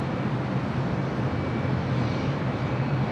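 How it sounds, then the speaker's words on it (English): Air Tahiti Nui Boeing 787 Dreamliner jet airliner heading to the south runway 25 right at Los Angeles airport, a steady, broad engine roar holding at an even level throughout without a break. "the Air Tahiti Nui Dreamliner also heading to the south side at 25 right"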